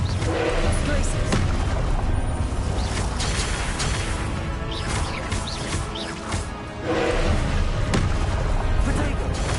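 Spell blasts crash and boom in Hogwarts Legacy, a dense run of loud impacts and bursts layered over a busy battle soundscape, with a short lull before the blasting resumes.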